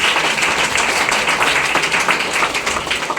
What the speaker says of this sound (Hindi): लिम्स के लिए जोरदार ताली दीजिए।